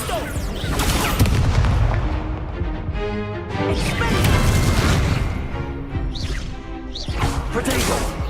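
Loud booming spell impacts and whooshes during combat in Hogwarts Legacy, with repeated heavy crashes and rumbling blasts layered densely over each other, with a shouted voice mixed in.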